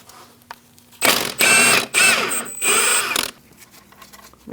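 A power tool fitted with a 15mm socket whirs in several quick bursts over about two seconds while it removes a tie rod nut on a 2000-2006 Mini Cooper.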